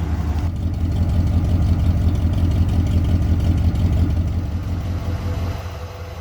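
Small block Ford V8 idling steadily while it warms up, a loud, even low rumble with a faint fluttering pulse that holds for the whole stretch, no voices over it.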